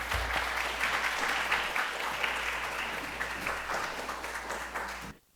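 An audience applauds at a symposium, a steady crackle of many clapping hands over a low hum, tapering off and stopping abruptly at the close.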